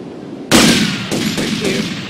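Gunfire in the video game GTA Vice City: a loud burst of shots starts abruptly, followed by several more sharp reports in quick succession, close and dominant with no talk.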